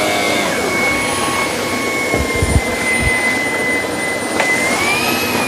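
A Shark PowerDetect cordless stick vacuum, model IP3251, runs steadily with a loud, even motor whine and airy rush, a couple of brief low thumps as it moves across the floor.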